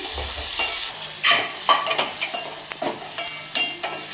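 Tomatoes and onions sautéing in a pan for urad dal, a steady soft sizzle broken by several sharp spoon scrapes and clinks against the metal, close by.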